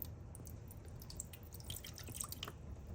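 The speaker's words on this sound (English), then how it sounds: "Now I'm gonna pour a little bit more into the top of this platter." Hydrogen peroxide poured onto a platter, heard as steady quiet liquid trickling and dripping with fizzing, splashing detail throughout.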